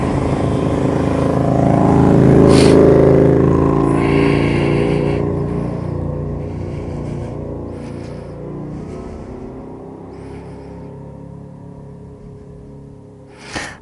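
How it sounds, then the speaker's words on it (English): A KTM Super Duke motorcycle engine revs loud and near, then its harmonic drone eases down and fades as it pulls away, ending with a faint click. "That Super Duke is sounding absolutely beasting"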